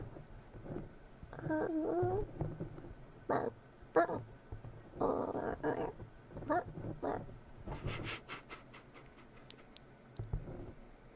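A person vocally imitates a deer from the video game Valheim with short barks, squeaks and whimpering sounds, delivered in several uneven bursts with pauses between.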